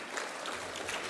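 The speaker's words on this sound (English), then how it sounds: "Let's give them a round of applause." A short burst of crowd clapping at a school Teachers' Day event, dense and even, heard at a moderate distance.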